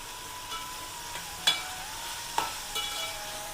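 Tomatoes sizzle softly in a pan for a mint chutney while a utensil stirs them, with a few sharp scraping clicks against the pan over a quiet, steady fry.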